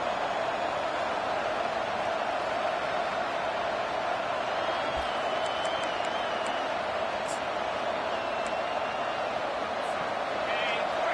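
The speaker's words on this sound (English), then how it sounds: "Listen to this crowd just shaking the girders of this place, trying to help their defense." Stadium crowd at a college football game with Clemson on defense, a dense, steady roar of many voices filling the air with no break, loud and continuous throughout.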